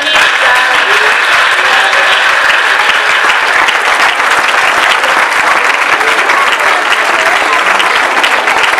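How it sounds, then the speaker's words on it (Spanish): Loud, steady audience applause fills a children's Christmas theatre show in Larraga, Navarra, sustained clapping from a large crowd throughout with no pauses. "os voy a pedir otro fuerte aplauso"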